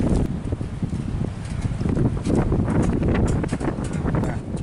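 Strong wind by a lake buffets the microphone continuously, a dense roaring rush with gusty thumps and no voices.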